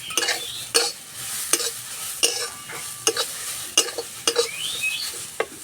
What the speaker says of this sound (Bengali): গাজর ভাজা হয়ে গেছে,